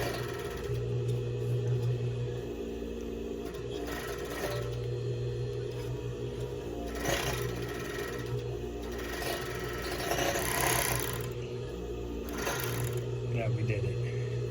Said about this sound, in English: now I'm going to sew the jeans in